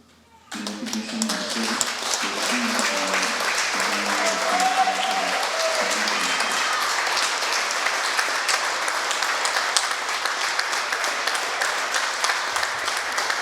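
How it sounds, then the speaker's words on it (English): A crowd at a Harrisburg Bureau of Fire awards ceremony breaks into sustained applause that swells quickly and holds as a dense, steady roar of clapping, with a few voices over it at the start. "Another round of applause for everyone that got an award"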